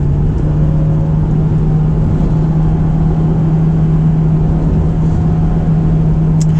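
A Honda S2000 engine drones steadily from inside the cabin on a mountain drive, a loud, even hum at constant revs with road noise and no talking.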